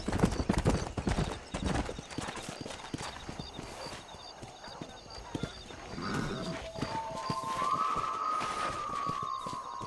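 Horse hooves clip-clopping at a brisk, steady rhythm in the Red Dead Redemption video game, close and continuous throughout, with voices and tonal game sounds over the hoofbeats.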